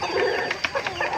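Native breeder hens cluck softly close by in a breeding pen in a brief burst, with a few short, sharper calls over a low background murmur.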